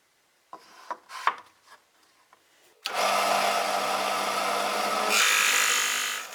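A drill press bores into a wooden cube: a few light taps and handling knocks first, then the motor and bit start with a loud, steady whirring grind that sharpens briefly near the end.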